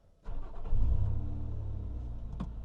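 A Lotus Emira V6 cranks and catches after a brief click, then swells into a deep rev and settles into a throaty, steady idle, heard close from inside the car.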